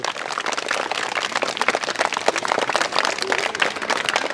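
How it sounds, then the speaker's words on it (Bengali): A school audience claps together in a dense, steady burst of applause for prize winners that carries on throughout, fairly loud and close. "সবাই তাদের জন্য একটা হাততালি।"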